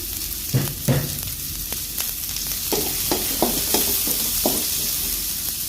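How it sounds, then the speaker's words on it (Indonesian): Shallots, garlic and chili sauté in a hot pan of oil. The frying hisses steadily up close, broken by repeated short knocks and scrapes of a stirring utensil. "Dan di sini untuk bawang merahnya saya tumis dulu."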